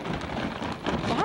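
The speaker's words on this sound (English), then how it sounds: "It's really starting to rain." Rain falls steadily in a short outdoor burst, a dense close patter with no speech over it.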